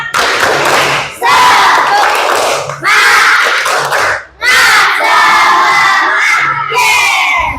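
Children in a classroom chant loudly in unison through a rhythmic tepuk semangat clapping cheer, in several bursts separated by short pauses, shouting voices dominating any claps.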